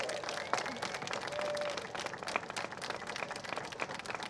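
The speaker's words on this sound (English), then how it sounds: "I'm going to give you a round of applause." Audience applause at a San Francisco Conservatory of Music groundbreaking event, a steady wash of many hands clapping at moderate distance, with voices mixed faintly underneath.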